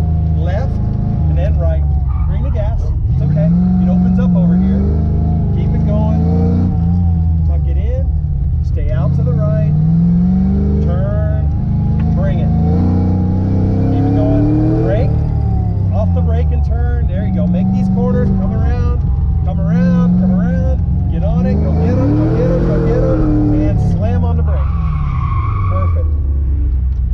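A Fox-body Ford Mustang accelerates hard through an autocross course, its engine note rising and falling through repeated revs with tire squeal. A close, loud drone runs throughout as an instructor talks over it.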